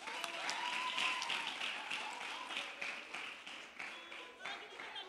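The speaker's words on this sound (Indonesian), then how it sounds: "Atau boleh teman-teman kita kasih tepuk semangat" An audience at a church youth service claps in encouragement, a steady patter of many hands that fades slightly toward the end, with some voices mixed in.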